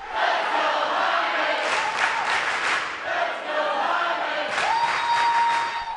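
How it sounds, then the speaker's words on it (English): A whole school packed into a gym in Pella, Iowa cheers and yells for a wrestler, loud continuous crowd noise swelling in waves with bursts of shouting. "it helps if you have a whole school cheering for you"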